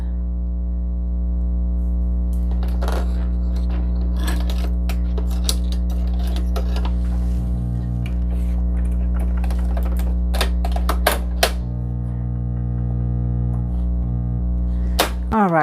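An embroidery machine stitches white thread into a paper greeting card held in a 5x7 hoop, giving a steady loud motor hum under rapid, uneven mechanical clicking and tapping, with brief harder clacks near the end.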